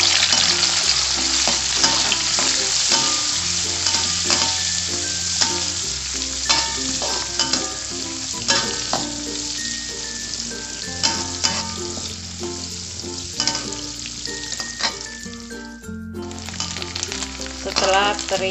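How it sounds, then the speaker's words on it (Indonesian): Teri anchovies sizzle steadily in hot oil in a wok-style pan, a continuous frying hiss lasting throughout with occasional stirring, set under light background music. "Setelah saya panaskan minyak, saya goreng terinya terlebih dahulu."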